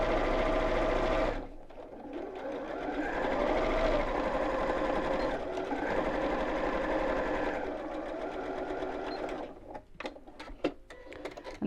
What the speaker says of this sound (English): I'm just going to do a little back stitch over the seam, just to strengthen it a little bit